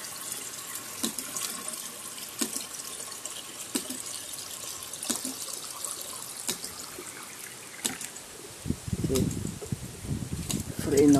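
Water from a homemade ram pump flows and trickles steadily into a container, with faint bird cooing and a voice nearby, growing louder and splashier near the end.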